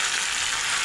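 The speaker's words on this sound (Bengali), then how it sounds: "এবার ভেজে রাখা আলু দিয়ে দেব।" Fried potatoes drop into a pan of chicken curry, setting off a loud, close, continuous hiss of sizzling oil that holds steady through the whole short burst.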